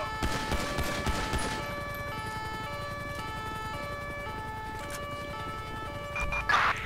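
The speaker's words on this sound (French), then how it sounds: "Ça tire, ça tire, ça tire. Ça tire dessus." Gunfire during a police chase in GTA V with the LSPDFR mod, scattered shots under a steady wailing emergency siren, with a loud burst near the end.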